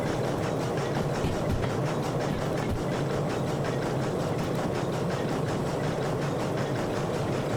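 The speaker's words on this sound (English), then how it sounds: "I forgot about how bad this hill can be with a long train." A long train labors up a hill in the Derail Valley train simulator game, giving a steady, dense engine rumble with a faint rhythmic clatter throughout and no voices.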